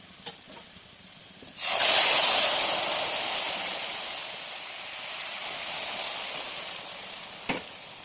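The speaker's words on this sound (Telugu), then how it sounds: "ఇప్పుడు పప్పు వేసేస్తున్నాను" Cooked dal is poured into hot oil tempered with cumin, garlic and curry leaves. A few small clicks come first, then a sudden loud sizzle erupts and slowly settles into a steady, softer hiss.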